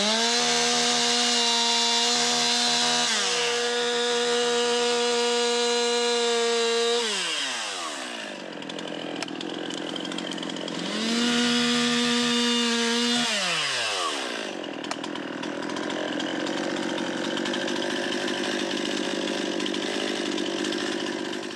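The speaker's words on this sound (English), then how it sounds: "That was 3 problem areas we have now covered with the chainsaw." A chainsaw clearing fallen wood from a hiking trail revs to a high whine, bogs down through cuts and drops to idle, repeating in two long bursts, close and loud with no talking.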